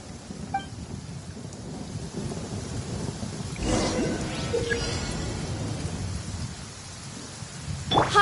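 A thunderstorm in Genshin Impact: steady rain patters on surfaces as a rolling thunderclap swells midway, with light rustling around it.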